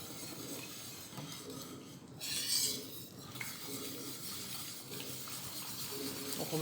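Flakes of Marseille soap melt in hot water while being stirred in a pot for homemade laundry detergent, a soft watery swishing with light utensil scrapes, quiet and close.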